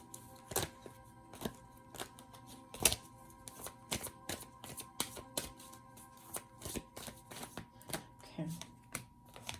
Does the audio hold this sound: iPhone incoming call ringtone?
no